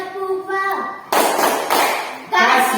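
A classroom of students gives a group a rhythmic 'tepuk wow' clap cheer: a short spoken lead-in, then two bursts of dense, noisy clapping mixed with voices.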